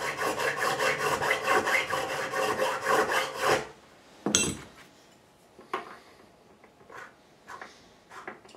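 A fret file rasps rapidly across the frets of a Tanglewood SJ-5 guitar during a fret level, a dense run of close scraping strokes for several seconds, then a few scattered scrapes and light taps.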